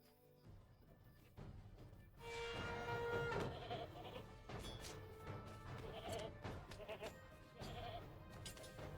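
Goats bleat repeatedly in The Lord of the Rings Online, overlapping cries over a busy backdrop of music and effects, loud and close.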